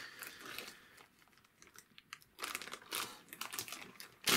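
Plastic wrapping on packs of game cards crinkles and crackles in irregular bursts, quiet at first then louder toward the end, close by, with no talking.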